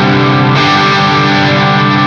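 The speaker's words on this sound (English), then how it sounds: "blending the chorus" An electric guitar runs through a budget G-Lab Rebel Series effects pedal with chorus blended in, giving a loud, sustained, distorted chord with a wide, shimmering texture that rings continuously throughout.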